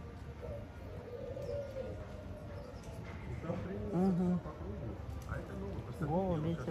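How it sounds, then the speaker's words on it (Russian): Crowned pigeons give soft, low cooing calls in an enclosure, a couple of rounded hooting phrases rising over steady background murmur and people talking nearby. "Ну, венценосные голуби привыкли уже сидеть здесь."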